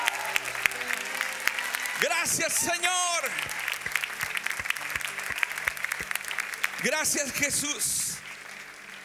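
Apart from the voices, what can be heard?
applause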